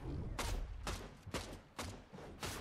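Sniper shots trade back and forth in Fortnite, five faint, evenly spaced cracks with short decaying tails over a low background rumble.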